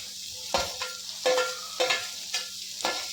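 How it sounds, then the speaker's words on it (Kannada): Finely chopped onions frying in a pan for potato gobi, a steady close sizzle broken by several sharp stirring scrapes at irregular intervals, no voices. "ಆವಾಗ ಸಣ್ಣಕ್ಕೆ ಕಟ್ ಮಾಡಿ ಇಟ್ಕೊಂಡಿರೋ ಈರುಳ್ಳಿನವನ್ನ ಹಾಕ್ತೀನಿ"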